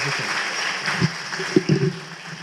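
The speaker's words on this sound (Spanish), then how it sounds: "Por favor, pido un fuerte aplauso" Audience applause for an architect at a forum on the Pisco earthquake, a modest, scattered clapping from a hall with a few sharper claps standing out, fairly soft and brief.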